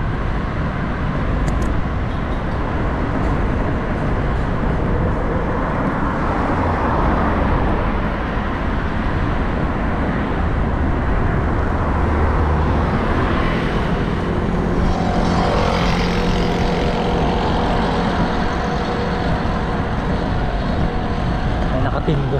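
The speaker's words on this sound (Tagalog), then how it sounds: "Ayan, mga sasakyan." Car traffic on a busy Taipei street makes a steady, loud, close roar of passing vehicles that fills the whole stretch without a break.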